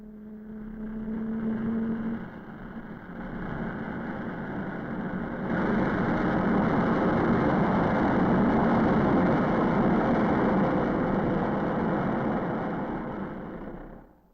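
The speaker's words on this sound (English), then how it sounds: "Engine run-up was a necessary prelude to flight test, now only a few days off." A General Electric J79 jet engine running up on the XF-104 fighter, a broad steady roar with a whine underneath that steps up sharply in intensity partway through and holds loud before fading out at the end.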